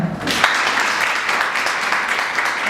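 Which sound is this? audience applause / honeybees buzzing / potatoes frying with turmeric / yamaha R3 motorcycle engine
audience applause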